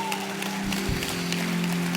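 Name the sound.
congregation applauding in church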